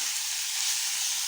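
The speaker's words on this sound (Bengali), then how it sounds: "মাংসটা, পেঁয়াজটাও ভাজা হবে, আস্তে আস্তে মাংসটাও ভাজা ভাজা হবে।" Meat and onion sizzle steadily in a hot pan, an even close hiss of frying oil over a short stretch, with no voices.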